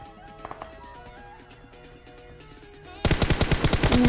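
Rapid automatic gunfire in the mobile battle royale game PUBG Mobile, sparse distant shots at first, then a loud close burst of about a dozen evenly spaced rounds.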